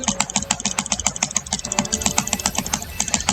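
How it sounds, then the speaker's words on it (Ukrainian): Rapid computer clicking while playing Roblox, a dense, fast run of sharp, close clicks and key taps with a faint engine-like hum from the game beneath. "Я думаю, вам чутно, як я клікаю, так дуже швидко."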